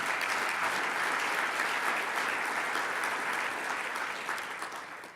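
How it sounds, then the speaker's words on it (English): A large conference audience gives a sustained round of applause, a thick, even roar of clapping that holds steady and then begins to fade near the end. "How about a big round of applause for participation from all over the world?"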